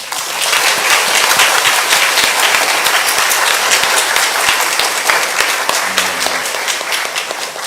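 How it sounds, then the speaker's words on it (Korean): A church congregation gives loud, sustained applause at a dedication ceremony for a new church building in Hanam, Gyeonggi, with dense clapping filling the space steadily from start to finish. "우리 하나님 아버지께 감사와 영광을 돌리는 박수 한번"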